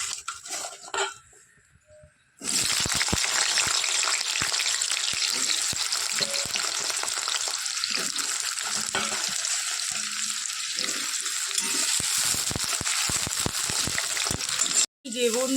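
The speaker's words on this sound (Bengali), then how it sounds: "চলো আগে আলুটাকে ভেজে নিই" Potatoes fry in hot oil in a pan with a loud, continuous sizzle that starts abruptly after a brief quieter moment, with occasional stirring scrapes and a voice talking over it.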